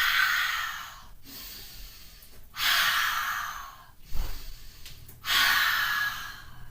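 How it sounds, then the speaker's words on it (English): Three long, breathy open-mouth exhalations with a ha sound during yoga practice, evenly spaced with quiet pauses between them, close and alone. "Exhale. Ha sound 3 times."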